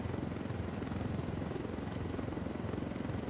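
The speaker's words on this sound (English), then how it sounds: "Be a pizza delivery helicopter" Helicopter flying in the video game Ghost Recon Wildlands, a steady rotor chop with continuous low thudding beats throughout, loud and close with no talk.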